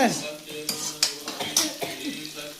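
A metal spoon clinks and scrapes against a pan in quick, rhythmic strokes while spices faintly sizzle in a tempering for cauliflower, close and clear.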